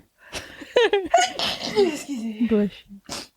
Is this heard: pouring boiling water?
no